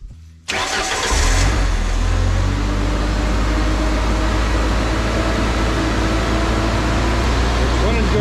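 Boom lift engine turns over and catches, then settles into a loud, steady mid-pitched running drone with a strong low rumble, close by and continuous through the rest of the stretch.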